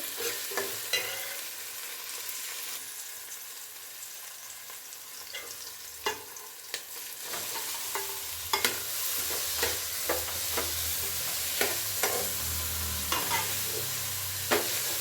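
Boiled beetroot tossed with fried onions in a little oil, a soft continuous frying hiss with frequent light clicks and scrapes of a spatula against the pan, heard alone without voices.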